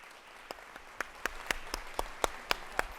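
A few people in a civic forum audience clap for Great Lakes panelists, sparse individual claps at a slow, uneven rhythm, close and distinct over a quiet room.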